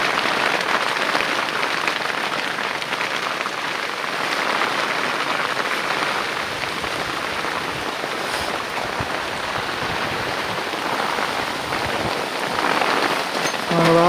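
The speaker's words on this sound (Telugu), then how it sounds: "వాన అయితే పెద్దదవుతా ఉంది" Heavy rain pours down at night in a steady, dense roar of drops hitting surfaces that holds unbroken throughout, with no voices.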